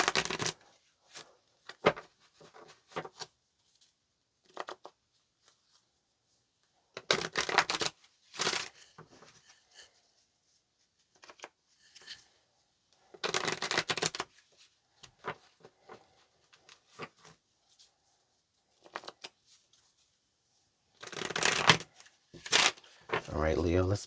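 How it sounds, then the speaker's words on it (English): Tarot cards being shuffled, with repeated short bursts of riffling and flicking separated by quiet gaps, close and crisp, and a voice speaking in between. "All right, Leo, let's make this our last shuffle."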